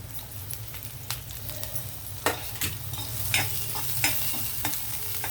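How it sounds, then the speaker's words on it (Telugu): Onions fry in hot oil in a pan with a steady close sizzle. Occasional scraping stirs break through the sizzle. "ఉల్లిపాయలు వేసి ఆగనిద్దాం."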